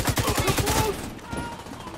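Suppressed gunfire in the video game The Division 2: a rapid burst of about eight muffled shots in the first second, followed by quieter game ambience.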